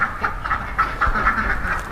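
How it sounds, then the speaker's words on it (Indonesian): Ducks quacking nearby in a rapid repeated series of loud nasal calls, several overlapping across the whole stretch with no talk. "Berarti ada bebek"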